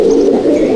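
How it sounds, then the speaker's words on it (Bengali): Many pigeons cooing together in a loft, a dense, steady, loud low murmur of overlapping coos filling the space with no voices. "দেখুন পায়রা কোয়ালিটি, সব ধাড়ি পায়রা আমার"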